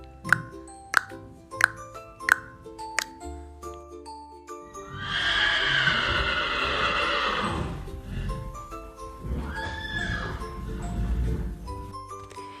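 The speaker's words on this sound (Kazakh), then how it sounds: "Ат шабады." A horse whinnies loudly over a steady drumming of galloping hooves and faint jingling tack, following several separate, evenly spaced clip-clop knocks.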